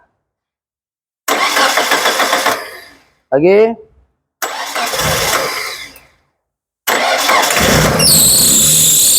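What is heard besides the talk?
Proton Wira MMC 1.5 car engine starting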